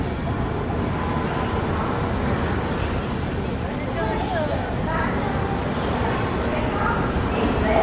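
Prashanti Express pulling in at Palasa station, a steady loud rumble of rail cars and track noise filling the whole stretch, with a crowd murmuring faintly beneath.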